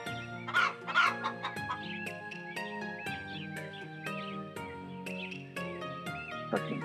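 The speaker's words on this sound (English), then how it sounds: "Oh look, a chicken." A cartoonish chicken clucks repeatedly in the InuYasha: Secret of the Cursed Mask video game, sitting in the mix alongside steady background game music with no talking.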